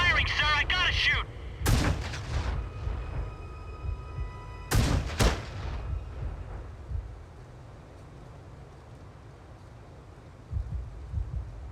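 Gunfire in the sci-fi space game Space Engineers: a few sharp, heavy blasts at about two and five seconds with ringing tails, over a steady low engine rumble, fairly loud and close.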